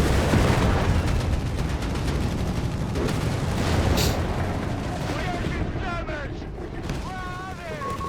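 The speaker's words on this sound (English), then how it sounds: "mines exploding" Mines exploding in Company of Heroes 3, a desert Afrika Korps versus US Forces match, heard as dense rumbling blasts and artillery-like booms in a continuous roar of battle, with a commentator talking over it.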